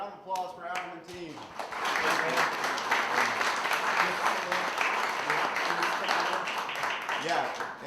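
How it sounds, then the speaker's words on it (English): An audience at a board meeting applauds, steady, dense clapping that swells after a few seconds of voices and carries on evenly to the end. "round of applause for Adam and team"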